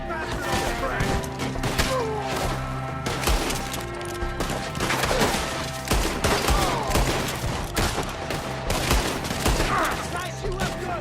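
Rapid gunfire in the video game Red Dead Redemption 2, dense overlapping shots and cracks throughout a firefight, loud and continuous over game music, with voices shouting now and then.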